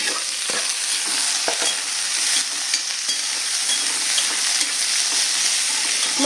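Long green beans stir-fried with mustard seeds in a pan give a loud, steady crackling sizzle close by, broken by repeated scraping stirs, with no talk.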